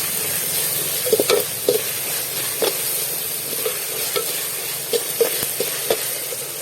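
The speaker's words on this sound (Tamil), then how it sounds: "இதில் நம்ம பச்சை மிளகாய் போட்டு வதக்கிடலாம்" Green chillies stirred and frying in a pan for a catla fish curry, a steady sizzle with repeated scraping stir strokes throughout, close and alone.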